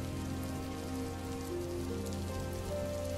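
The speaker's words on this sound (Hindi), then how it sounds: "पूरी रात बारिश होती रही।" Steady rain falls through a cold night in a wintry Hindi folk tale, a dense, continuous patter on surfaces with no voices.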